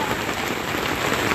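Heavy rain at Jaro Plaza, a loud, steady hiss of downpour drumming on surfaces, continuous and close, with no voices over it.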